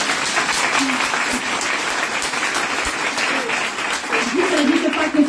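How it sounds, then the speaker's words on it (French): Audience applause at a conference, a steady burst of clapping from a crowded room lasting several seconds, with a voice speaking over it. "On l'applaudit très fort."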